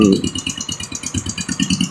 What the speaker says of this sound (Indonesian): hingga menyebabkan suara ketukan antara ini dengan dinding liner ataupun piston ini sudah longgar dengan dinding linernya